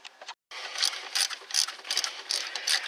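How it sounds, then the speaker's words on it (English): Ratchet wrench tightening bolts on a car's front brakes, a close, loud series of rapid clicking ratchet strokes in quick bursts, with no talking. "Now all we gotta do is tighten them up."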